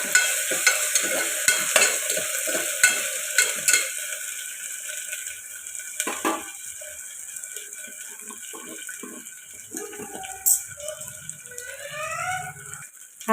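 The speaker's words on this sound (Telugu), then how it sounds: "ఇప్పుడు పచ్చివాసన పోయేదాకా ఫ్రై చేసుకుంటాం." Sliced onion with ginger garlic paste fries in a pan for a pea and tomato curry, with a steady soft sizzle under repeated close scraping and clattering strokes of a spoon being stirred through it.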